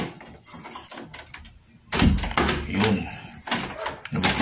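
A key works the lock of a locked doorknob, producing clicks, scrapes and rattles of metal, with a louder burst of handling near the middle and a few brief taps and jangles around it.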